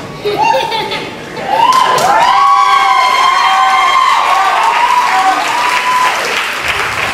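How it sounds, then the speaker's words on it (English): A commencement audience at Metropolitan Business Academy applauds the standing graduates, loud, dense clapping rising quickly and holding steady for several seconds, with high cheers and whistles threaded through the crowd noise before it tapers at the end. "let's all give them a round of applause"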